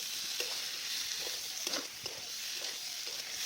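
Boiled potatoes stir-fried in spice paste crackle in a pan with a soft, steady sizzle, punctuated by a few scraping stirs of a spoon, close and moderately quiet.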